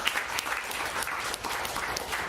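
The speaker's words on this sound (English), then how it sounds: "We'll give them a round of applause." Audience at a business talk gives a brisk round of applause, dense and steady clapping from a seated crowd for the whole moment, no speech.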